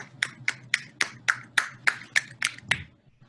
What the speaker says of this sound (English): can also do one-hand clapping